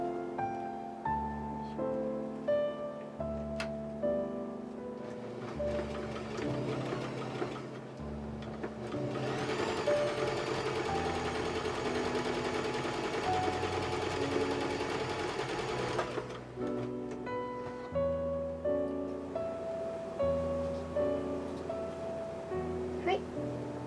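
A domestic sewing machine runs in steady stitching bursts, sewing a ballet tutu skirt into a loop, its whirring rising into a long continuous run midway, with no talk over it.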